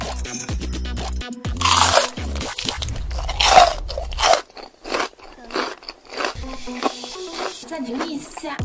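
A character in a life simulator game bites into apple pie at a café, giving loud, close crunching and chewing bursts in an uneven rhythm, broken by short gaps and light game sounds.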